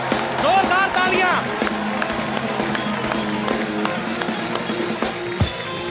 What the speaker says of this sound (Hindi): एक बार रितेश देशमुख के लिए जोरदार तालियां